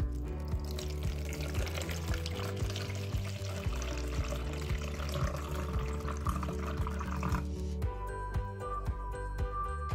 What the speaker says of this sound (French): Donc, vous pesez 500 g d'eau.